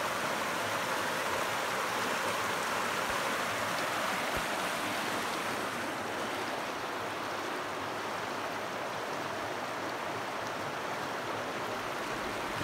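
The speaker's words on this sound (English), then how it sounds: "First little waterfall of the day," A small waterfall or creek runs beside a mountain trail at about 8,300 feet in Rocky Mountain National Park, making a constant broadband rush of flowing water, close and even throughout, with no voices.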